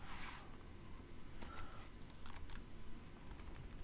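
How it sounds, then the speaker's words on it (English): Typing on a computer keyboard: a close run of quick, uneven key clicks in short bursts over a low background hum, with no voices. "I'm going to go back and I'm going to type in Telerik"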